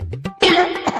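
A man coughs a few times in quick, harsh bursts, close and fairly loud.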